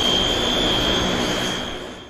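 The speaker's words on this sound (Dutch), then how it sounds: "Jeetje Piet, wat een landing zeg" A jet airplane lands, its engines giving a loud, steady roar with a high whine throughout. The roar fades slightly toward the end, with no voices over it.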